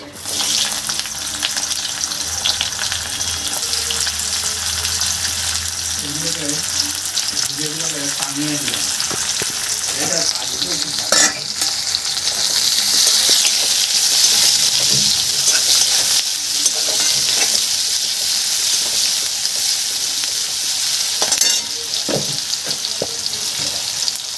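Onions frying in hot oil with cumin seeds for a Bengali shol fish curry, a loud steady sizzle with scraping and clinking as a spatula stirs the pan, lasting throughout.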